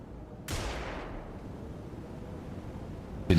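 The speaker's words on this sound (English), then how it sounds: "we'll start with a flashbang." A flashbang detonates in the tactical strategy game Xenonauts 2, one sudden sharp bang with a long fading hiss over quiet background, followed by another abrupt hit at the very end.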